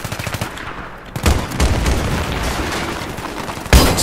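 Gunfire in a Battlefield 3 singleplayer mission, with a rapid run of sharp reports, a louder boom after about a second and another heavy blast near the end, fairly close and loud, with no talk.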